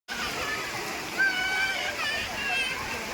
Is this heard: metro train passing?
no